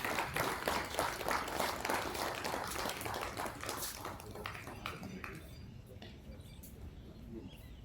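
Applause from an audience at an International Yoga Day gathering, a dense crowd clapping that rings out strongly and then thins and fades toward the end.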